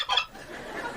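Sharp, nasal gobbling from a live turkey in a home kitchen, a quick clucking burst at the start that fades into muffled room noise.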